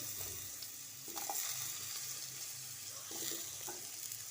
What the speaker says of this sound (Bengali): আলুগুলোকেও ভালোভাবে ভেজে নেব